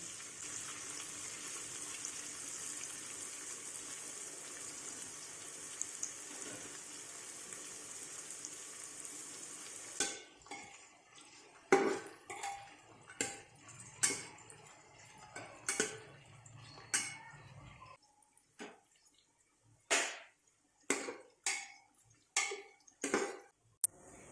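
Onions frying in a pan, first as a steady soft sizzle, then broken by a series of sharp scraping and tapping strokes as they are stirred, close and fairly quiet with no talking.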